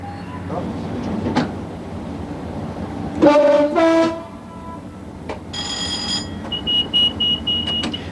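A coal train rumbles along, then its horn blasts twice mid-way, followed later by higher horn tones and squeals as it moves off; faint voices appear briefly.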